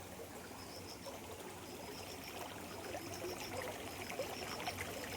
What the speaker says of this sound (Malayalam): ഈ ഓടയ്ക്കകത്തൂടെയാണ് വെള്ളം അങ്ങ് വരെ പോകുന്നത്.